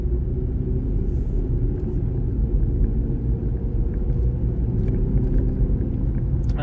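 A Vauxhall Astra J driving with a previously harsh-downshifting gearbox: a steady low engine and road rumble heard from inside the cabin, continuous and fairly loud.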